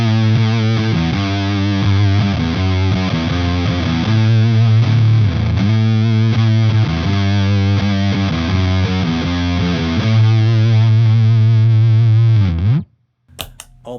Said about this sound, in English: We're going to do it on one string. And with fuzz, it takes up a lot of space, surprisingly,